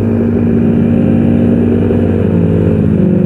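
Suzuki Raider 125 motorcycle engine during a Sunday morning group ride, a steady loud mid-pitched running drone held throughout with no speech.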